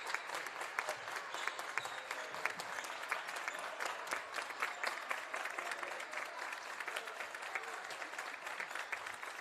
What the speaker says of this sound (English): The Eastside fans starting to clap.